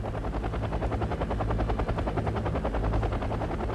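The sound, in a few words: Mi-24 attack helicopter firing in the Wargame: Airland Battle video game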